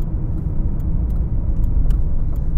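A Cadillac XLR roadster brakes during a test drive, heard from inside the car as a loud, steady low road and engine rumble with faint ticks on top.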